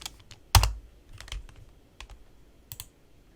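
A computer keyboard is pressed for a Ctrl+D shortcut while building in ZEPETO Build It: one sharp, loud key click, then a few softer scattered taps in a quiet room.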